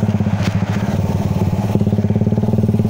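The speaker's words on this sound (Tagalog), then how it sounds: "So nandun na yung mga tropa natin na naka-scooter. Mio 190cc na yata yon" A Mio 190cc scooter engine revs hard and close with a rapid, pulsing exhaust rattle, climbing in pitch with a brief shift-like break midway before surging on.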